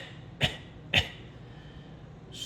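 Two short, sharp coughs a half second apart, fairly quiet, with the start of another cough at the very end.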